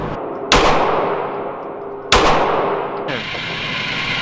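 Two loud, sharp gunshots about a second and a half apart ring out at an outdoor shooting range, each with a long echoing tail, from an AR-15 or Desert Eagle; no talking.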